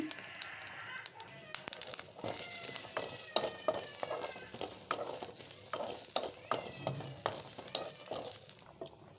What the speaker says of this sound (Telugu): ఇలా ఒక కడాయి తీసుకొని ఇందులో అయితే ముందుగా ఈ పచ్చి కొబ్బరిని వేయించుకోవాలి